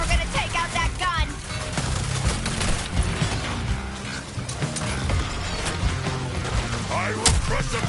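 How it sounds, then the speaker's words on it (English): Gunfire and heavy weapon blasts crackle through a battle in the Suicide Squad: Kill the Justice League video game, rapid bursts and booms layered over music and effects, with voices talking beneath the din. "Watch out the crossfire, Quinn."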